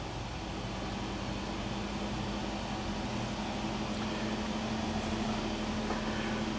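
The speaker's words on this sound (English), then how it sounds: "And we just hear the fans all ramping up to cool the battery." Steady, broadband whooshing hum of an electric car's battery cooling fans running while it charges, heard as a continuous background drone like distant jet noise.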